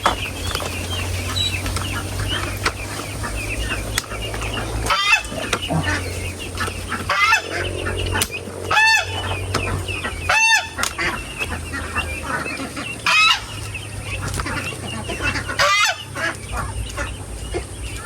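Geese honk repeatedly on a farm built on formerly vacant land, loud bursts of honking scattered over steady outdoor background noise, with other fowl clucking and occasional wing flaps, no talking.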